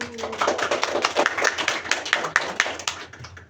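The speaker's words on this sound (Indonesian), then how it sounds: "tepuk tangan buat Mbak Dinar dan Mas Abu" Classroom applause as students clap their hands for two classmates, a brisk run of close, overlapping claps at moderate loudness that tapers off toward the end.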